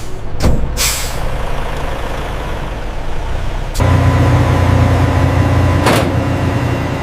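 A large truck with air brakes, working at a busy cake factory shipping yard, gives several sharp, hissing air brake bursts over a steady low engine rumble that grows louder partway through.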